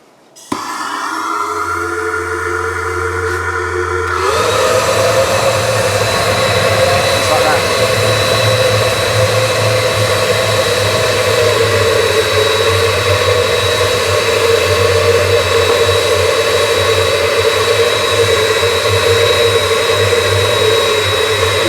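A workshop heater burning waste engine oil lights up: a quieter hum gives way to a steady, loud roaring burner with a low droning rumble and whine that continues evenly to the end.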